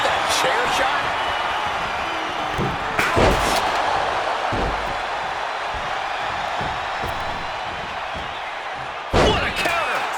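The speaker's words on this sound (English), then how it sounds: "Did you hear that chair shot?" Steel chair shots in the WWE 2K26 wrestling video game land as loud metallic slams over a constant roaring arena crowd, one big crack early and another near the end, with commentary talking throughout.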